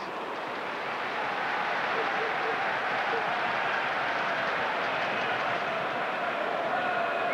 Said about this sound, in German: Und da kam auch mal ein bisschen Applaus aus Reihen der holländischen Fans